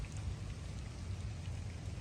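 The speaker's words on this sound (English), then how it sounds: "let me show you what it looks like in the rain. It's not a heavy rain, it's just a nice rain." Light rain falls over a town square on a Sunday morning, a steady, even hiss of drops on pavement filling the whole stretch at moderate level with no voices.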